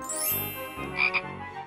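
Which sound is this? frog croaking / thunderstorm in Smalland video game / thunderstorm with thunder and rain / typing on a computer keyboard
frog croaking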